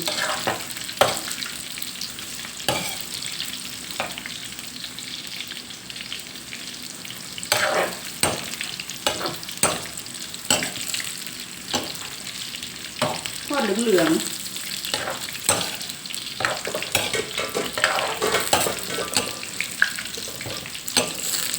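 Thai fish cakes sizzling in hot oil, a continuous crackling fry close by, with occasional clinks and stirring knocks as pieces are turned and scooped.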